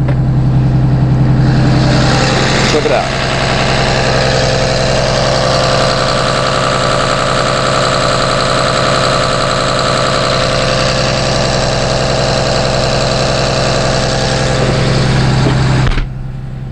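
The Cummins 6.7 liter turbo diesel engine of a 2009 Blue Bird All American school bus idles steadily with a low, continuous rumble and faint rattle, loud and close, and someone briefly speaks near the start.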